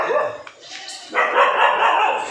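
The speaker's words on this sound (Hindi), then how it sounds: "ये कुत्ता आ गया था अभी कोई बाहर से, ये पड़ोसी का कुत्ता है" A neighbour's dog barks close by in a domestic setting, a few sharp barks and yips that blend with a person speaking nearby.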